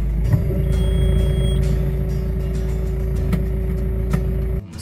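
A Case Quantum 65V orchard tractor idles with a steady low engine drone while its handbrake warning sounds as a sustained electronic tone. The tone runs through most of the span and cuts off near the end.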